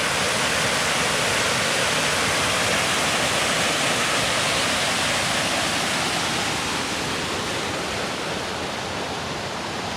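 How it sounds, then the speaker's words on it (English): Dish Falls, a waterfall on the fells near Bakestall, gives a continuous, loud, broadband rush of falling water with no break and no voices. "I think this is called Dish Falls, or Dish Waterfalls"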